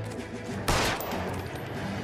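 A sudden, loud burst of rapid gunfire erupts in the L.A. Noire video game, a short volley over a low, steady background.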